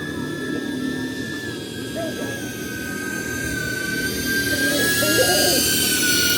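An FPV drone flies close by with a thin, steady propeller whine that rises slightly in pitch, over a breathy motor buzz that grows a little louder toward the end.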